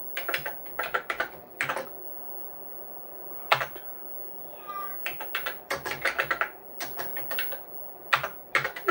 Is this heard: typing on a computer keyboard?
yes